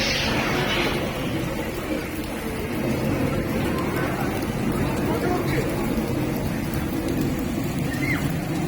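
Artificial rain falls in Sharjah, UAE, as a constant dense hiss and patter with a low rumble beneath, heavy and close throughout, with voices mixed in.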